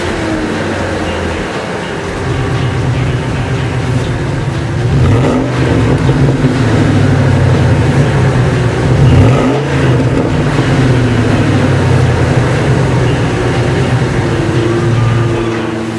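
A deep uncorked 5.4-liter V8 exhaust rumbles loudly at close range through an electric exhaust cutout, rising in a couple of throaty free revs before settling back to a heavy idle.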